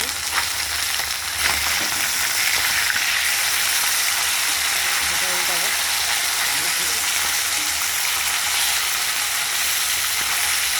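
Steady hiss and crackle of frying in a pan fills the whole stretch, loud and close, with a faint voice or two in the background and occasional clinks.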